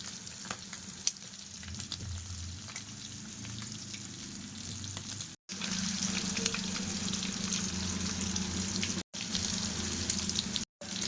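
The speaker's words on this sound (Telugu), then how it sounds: "చూసారు ఎంత పర్ఫెక్ట్గా ఫ్రై అయ్యిందో ప్రాన్స్" Prawns deep frying in hot oil crackle and sizzle steadily at close range, with a few brief silent gaps.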